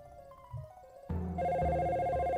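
A telephone in the Dino Crisis video game rings on and on with no answer, a steady electronic bell that starts softly and then swells into a loud, continuous trill with nobody talking over it.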